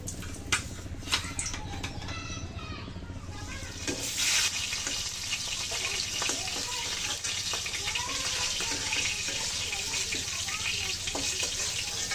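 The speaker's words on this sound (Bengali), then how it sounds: "তেল গরম হয়ে গেছে, মাছগুলো ভেজে নেব।" Puti fish frying in hot oil in a wok, a steady broadband sizzle running throughout with brief stirring clatter, close and moderately loud.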